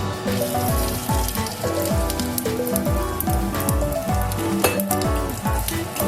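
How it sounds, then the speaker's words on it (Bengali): Tempering spices hit hot mustard oil in a kadai for a Bengali colocasia and prawn curry, giving a loud, dense, crackling sizzle with sharp popping bursts throughout, no voices. "তেল গরম হয়ে গেছে, এখানে আমি কিছু ফোড়নের জন্য মশলা নিয়েছিলাম, এগুলো দিয়ে দেবো।"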